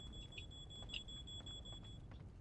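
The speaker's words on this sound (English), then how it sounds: "I don't want to be near that beeping anymore" A faint, high electronic alarm beeps steadily in the video game Paranormal, a thin continuous tone with brief pulses over a low background rumble.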